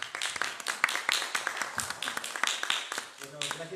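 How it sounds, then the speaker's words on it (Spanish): An audience at a biology symposium at a Peruvian university applauding, with irregular scattered claps of moderate loudness and a voice briefly heard at the end. "Lo recibimos con un fuerte aplauso, por favor."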